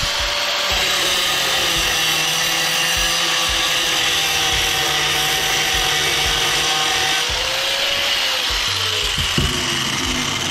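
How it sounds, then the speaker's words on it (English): A power grinder cuts rivets off aluminum scrap, a loud, continuous, close whine with shifting pitch and scraping bursts as the disc bites the metal, running unbroken throughout. "we can maybe just grind them rivets off that's holding it."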